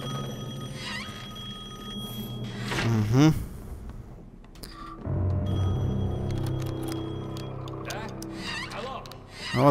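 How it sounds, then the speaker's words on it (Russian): A telephone rings in the stealth game Assassin's Creed Chronicles: Russia, coming in two short warbling electronic bursts over low, steady game ambience. "надо как-то сделать телефонный звонок"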